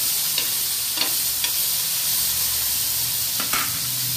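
Tomatoes cook in oil in a pan for chutney, giving a continuous close sizzle and hiss. Several soft scrapes of stirring break through the frying noise.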